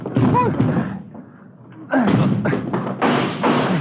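Men ram and pound on a blocked front door to break it in, heavy thuds and slams coming in bursts with shouting voices over them, a brief lull in the middle before the blows resume.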